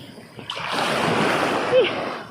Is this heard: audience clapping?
no